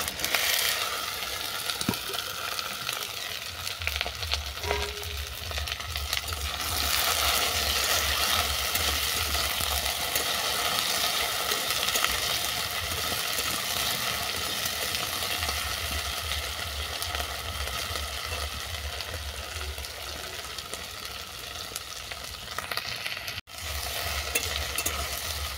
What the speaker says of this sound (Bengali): রসুন হালকা বাদামি করে ভেজে নেওয়ার পর তুলে দিচ্ছি ঢেঁড়স।